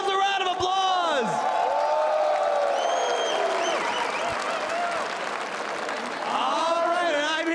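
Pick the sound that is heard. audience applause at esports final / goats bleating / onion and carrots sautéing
audience applause at esports final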